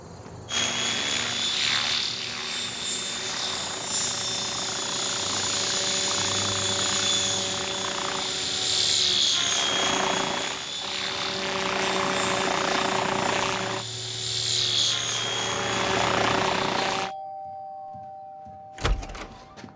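A helicopter's steady rotor drone and whine holds loud for most of the clip, then cuts off abruptly, leaving a quiet hum and a brief thump.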